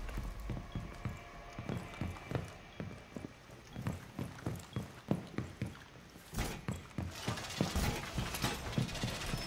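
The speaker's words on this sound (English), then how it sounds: "Unrolling razor wire." Razor wire being unrolled in Rainbow Six Siege gives a rhythmic series of metallic clanks and ratcheting clicks, evenly spaced and fairly close, building into a denser rattle near the end.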